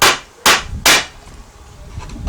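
A hammer taps a small nail home into wood while building a simple DIY money storage box, three crisp nearby blows in quick succession, then a quieter stretch with faint handling noise and no voices.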